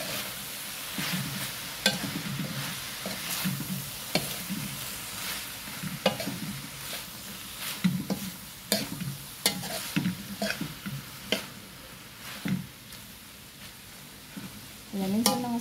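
Pancit canton with tofu stirred in a frying pan: a continuous sizzle with repeated scraping and clinking strokes of a utensil against the pan, close and fairly quiet throughout.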